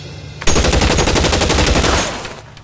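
A loud, sustained burst of rapid gunfire from armed men in L.A. Noire, hammering continuously for about one and a half seconds before trailing off into echo.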